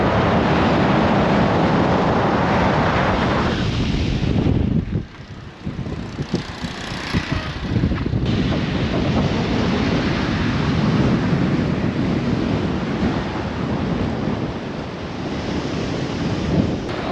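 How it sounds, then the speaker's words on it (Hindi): Strong seaside wind buffets the microphone with heavy, continuous rumbling gusts over steady surf, briefly easing for a moment before roaring back. "इतना ज़्यादा हवा चल रहा है कि कुछ"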